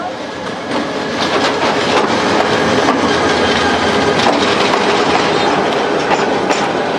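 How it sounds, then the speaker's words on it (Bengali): Trains running through the city of Mymensingh, a loud, continuous rumble with rhythmic clattering of wheels over the rails, close by and filling the whole stretch. "তার উপর শহরের বুক চিরে প্রতিদিন চলাচল করে পঞ্চাশের অধিক ট্রেন"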